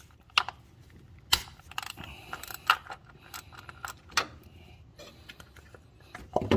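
A ratchet with a 10 mm socket works the coil pack bolts on a 2015-or-later Subaru 2.0L engine, giving scattered metallic clicks and light rattles in short bursts at close range, with no talking.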